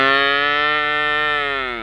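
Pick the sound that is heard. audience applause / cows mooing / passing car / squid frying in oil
cows mooing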